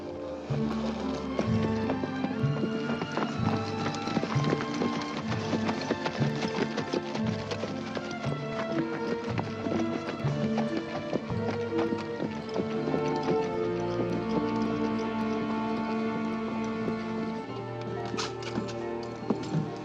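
Horses ride at speed in an old Western scene, a steady rapid clip-clop of hooves under a swelling orchestral score, continuous and busy throughout.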